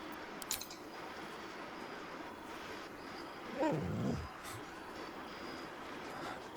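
In Baldur's Gate 3, the dog Scratch lets out one brief whine midway, close and fairly soft, over a steady low game ambience.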